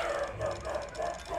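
A dog barks in quick repeated yips, about five short calls at a steady rhythm, moderately close and clear with no voices alongside.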